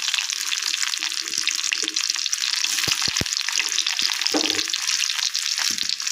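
Small shallots frying in oil in a pan for coconut chutney, a dense continuous sizzle with a few brief knocks and clicks of stirring, near and steady.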